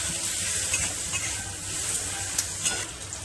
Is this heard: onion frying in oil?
yes